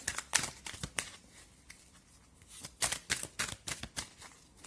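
Tarot cards are shuffled and drawn in a quick close run of riffling flutters and crisp slaps, uneven bursts of papery clicks with brief gaps, no talking.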